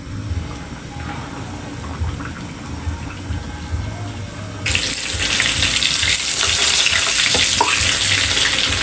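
Chicken pieces dropped into hot cooking oil, a quiet murmur that bursts midway into a loud, steady sizzle and crackle of frying close up.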